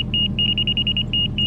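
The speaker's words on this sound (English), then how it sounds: "You'll hear a beep." A laser level receiver at a French drain job emits a rapid string of short, bright electronic beeps in an uneven rhythm, close and loud over a low rumble of outdoor background noise.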